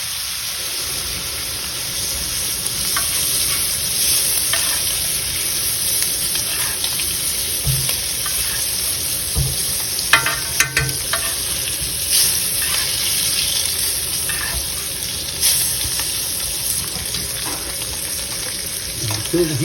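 Lobster claws poach in butter and white wine in a pan, giving a steady, busy sizzle and bubbling that carries on throughout, with occasional spoon scrapes and stirring noises and no talking.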